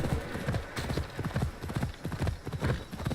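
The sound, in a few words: horse hooves in video game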